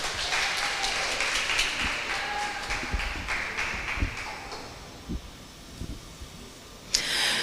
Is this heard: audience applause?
yes